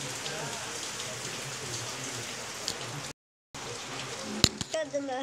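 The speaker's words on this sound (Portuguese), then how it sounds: "E aqui tá chovendo" Steady rain in a Roblox game patters on a surface, a broad hiss broken by a brief dropout, with a few sharp knocks and faint chirps near the end.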